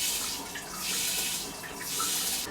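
A Japanese toilet's bidet spray runs in a hissing, steady stream, swelling and easing in waves, close and alone without talk.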